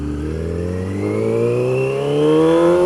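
A motorcycle engine revs up steadily, its pitch climbing through a clutchless upshift as the throttle goes back on, loud and close.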